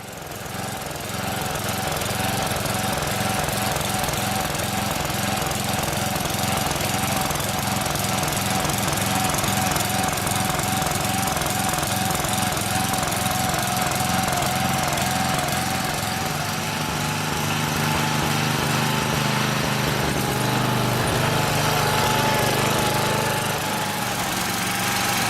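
Lawn Chief 8/30 riding mower engine running steadily after a carburetor replacement, a loud continuous drone with a faint whine and slight load changes, no talk over it.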